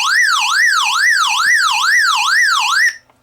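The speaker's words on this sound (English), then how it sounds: "When any NOAA channel issues a disaster warning, the machine will immediately sound an SOS sound" An XHDATA D608WB pocket weather radio sounds its SOS disaster alert, a loud, close electronic siren that sweeps up and down in a fast, even rhythm for about three seconds and then cuts off.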